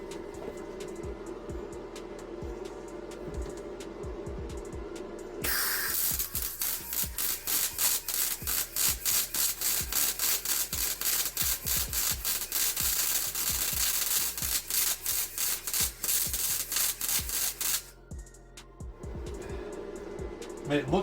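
A cheap aluminum MIG welder set around 165 sputters and crackles in a loud, rapid buzzing stream for about twelve seconds, with quieter stretches of talk before and after the weld.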